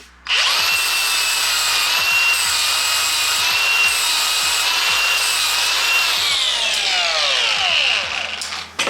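Power tool cutting a gasket for a car's transmission tunnel, a loud, steady high whine lasting about eight seconds with a faint rhythmic rubbing underneath before it winds down.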